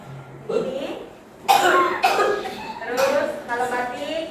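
A person coughs a few times in a school classroom, short rough bursts mixed with speech, close and moderately loud.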